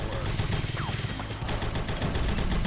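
A minigun firing in the side-scrolling shooter Huntdown: a dense, continuous burst of rapid rattling shots over a loud game soundscape.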